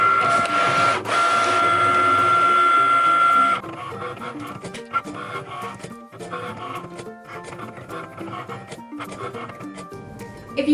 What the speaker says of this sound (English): Then click the Cricut symbol on your machine when it flashes, and your design will start cutting.